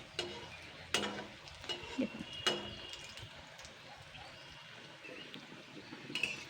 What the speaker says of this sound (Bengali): আমি কিন্তু সুন্দর হালকা লাল লাল করে ভেজে নেব। এটাকে কিন্তু মিডিয়াম আঁচেই করতে হবে